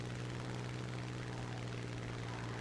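Steady droning engine of a Hawker Hurricane Mark IV fighter in a combat flight game, a continuous loud hum with a low rumble and no breaks.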